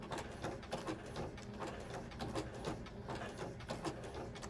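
Sewing machine stitching coiled rope into a bowl, a faint, steady run of quick mechanical needle thumps repeating evenly throughout, with no talking.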